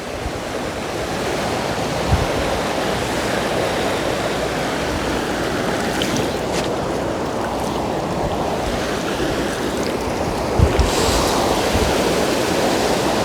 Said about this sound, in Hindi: मंदाकिनी नदी को भी देख सकते हैं